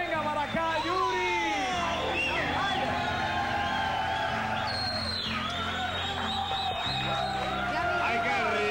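A lively crowd at a promotional appearance by a singer in Puerto Rico claps, whoops and cheers continuously at close range, with shouts and babble rising through the noise.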